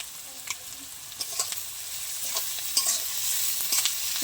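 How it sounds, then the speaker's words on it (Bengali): Onions fry in a pan toward browning with a soft steady sizzle and intermittent clinks and scrapes of stirring, fairly quiet and close, with no voices. "পেঁয়াজটা আমি একটু ভালো করে লাল লাল করে ভেজে নেব।"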